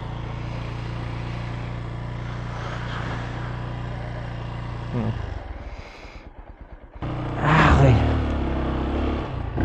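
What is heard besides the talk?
Kawasaki Rouser 135LS motorcycle engine running after cold start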